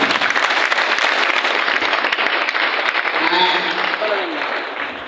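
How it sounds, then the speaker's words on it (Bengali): Audience applause fills a convention hall, dense sustained clapping at full volume that gradually tapers, with a few voices rising over it toward the end. "হাততালি হলো সবাই ভিতর থেকে একদম"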